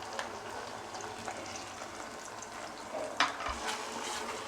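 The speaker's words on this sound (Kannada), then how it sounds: "ಹಸಿ ವಾಸನೆ ಹೋಗೋವರೆಗೂ ಚೆನ್ನಾಗಿ ಫ್ರೈ ಮಾಡ್ಕೊಳ್ಳಿ ಅದನ್ನ" Garlic ginger paste with tomato paste frying in a pan for paneer matar masala, a steady soft sizzle with occasional light stirring scrapes and one sharp tap, fairly quiet and alone.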